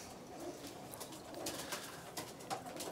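Soft cooing of racing pigeons in a loft sounds faintly against a quiet background, with a few brief rustles and low murmurs.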